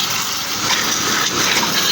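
Water rushes and gushes steadily from a tap, a loud continuous splashing flow with no voices.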